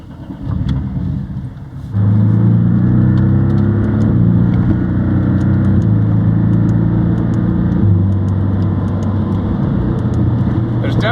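A Porsche engine revving as heard from inside the cabin with the sound actuator fuse pulled, a steady loud droning note that steps up and down in pitch through several rev changes after a quieter idle start.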